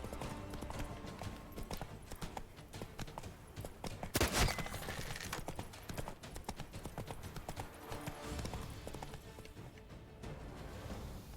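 A horse gallops in The Witcher 3 video game, its rapid clip-clop hoofbeats loud and close and running steadily throughout, with a sharp burst partway through and no voices.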